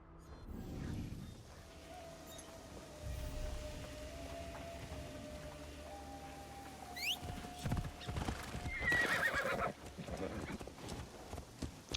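Hoofbeats of a horse ridden through Assassin's Creed Shadows, a steady clip-clop with a whinny, a faint melodic tone running beneath and louder rustling bursts toward the end.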